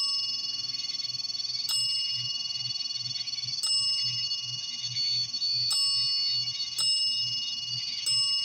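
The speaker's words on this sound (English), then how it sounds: "Wow, that bell is really going off." A small bell rings repeatedly during a paranormal investigation, sharp dings recurring about once every second or so over a steady electronic hum and faint pulsing tone, with no talk.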